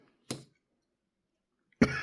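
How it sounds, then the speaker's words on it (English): Two separate coughs, each short and sharp, from a person nearby, about one and a half seconds apart with quiet between them. "All of a sudden I need to cough."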